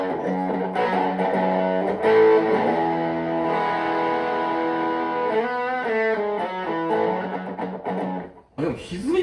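An electric guitar with mild distortion is played in a guitar shop in Yokohama's Chinatown, ringing out sustained chords and bending notes up close, with a brief noisy break near the end.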